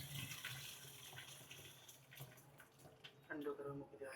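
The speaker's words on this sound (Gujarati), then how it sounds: "જો હવે આપણ આવી રીતે પાણી નિતારી કાઢવાનું." Water from boiled pasta pours out of a pot in a steady splashing stream, faint and close, with light clinks toward the end.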